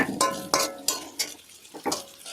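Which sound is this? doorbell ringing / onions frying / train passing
onions frying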